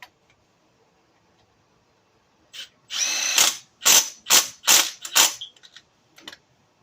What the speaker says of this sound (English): we're about to tighten those 3 bolts